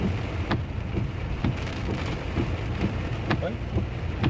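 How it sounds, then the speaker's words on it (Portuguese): Heavy rain drums steadily on a car while driving through a storm in Divinópolis, with a dense constant wash and sharp thunder cracks or drop impacts standing out every second or so. "Ao mesmo tempo que a chuva diminui um pouquinho,"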